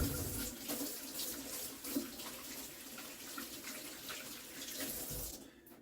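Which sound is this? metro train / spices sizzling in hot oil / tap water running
tap water running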